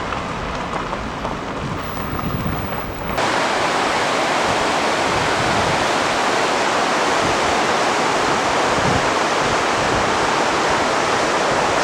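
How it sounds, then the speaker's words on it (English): The Malad River in Idaho rushes loudly and continuously, a dense close roar of flowing water that grows louder and fuller a few seconds in and holds steady with no voices. "We're following the Malad River"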